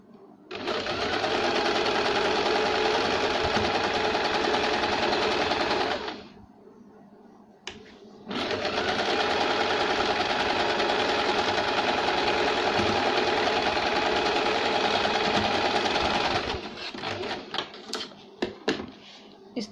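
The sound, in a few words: sewing machine stitching a blouse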